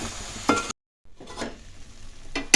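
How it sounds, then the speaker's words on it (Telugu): Tomatoes cook in a pan for chutney. A spoon stirs and scrapes in short bursts over a soft sizzle, with a brief silent gap between strokes. "ఇప్పుడు బాగా కలుపుకొని టమాటాలు మొత్తం దగ్గరికి మగ్గే వరకు ఉడికించుకుందాం."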